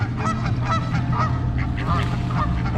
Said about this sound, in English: God dang, these seagulls.